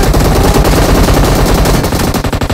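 Loud, rapid gunfire from a shotgun-like weapon in an online shooting video game, dense bursts of blasts filling the whole stretch with no speech.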